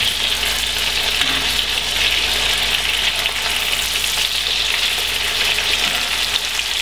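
Chicken piccata cutlets sizzle steadily in a hot pan as they turn golden brown, a dense, continuous frying hiss holding even loudness throughout with no talking.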